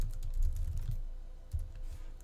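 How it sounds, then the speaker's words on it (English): Someone types method code into a lambda expression on a computer keyboard while programming a JavaFX text-moving example, with soft, close, irregular key taps in quick bursts over a low background hum. "I'm just typing the method code basically straight in here in this lambda expression"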